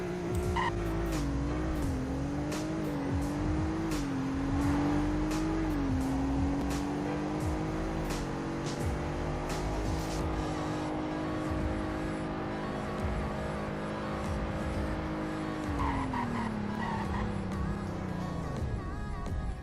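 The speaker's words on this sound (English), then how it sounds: "0 to 100 in braking test." Car in the Roblox Greenville game doing a 0 to 100 and braking test: an engine revs up through rising gear shifts, holds a steady high drone, then drops as the car brakes, with sharp tire squeal and clicks.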